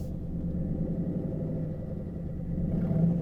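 A donk car engine idles at close range, a low steady rumble with a slight rise toward the end, and no voices.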